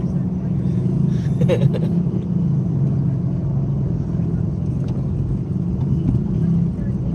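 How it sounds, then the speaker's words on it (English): Steady low road rumble from a car driving along a city street toward a workplace, continuous and fairly loud throughout, with faint scattered background noises and no clear talk. "And we're still driving towards work."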